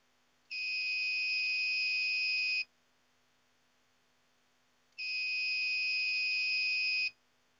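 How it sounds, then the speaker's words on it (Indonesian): A bench power supply's short-circuit alarm sounds when its red positive and black negative leads are touched together during phone repair, giving two loud, steady electronic beeps of about two seconds each, separated by silence. "kita akan shortkan, maka si power supply ini akan berbunyi"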